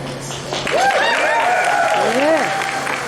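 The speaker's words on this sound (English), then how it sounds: "We give a huge round of applause" A crowd at a Philadelphia sports and events gathering applauds dancers after a performance, dense clapping swelling and holding throughout, with cheers and whoops rising above it.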